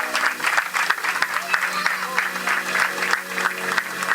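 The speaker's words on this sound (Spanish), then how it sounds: "¿Cuántos le pueden dar un aplauso al Señor?" A church congregation applauding the Lord during a sermon, many hands clapping in a dense, slightly uneven rhythm that pulses steadily, close and loud throughout.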